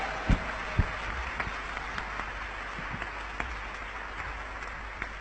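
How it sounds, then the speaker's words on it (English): Audience applause at a conference hall, a steady even wash of clapping from a crowd lasting several seconds, with a couple of louder knocks near the start. "With a warm round of applause"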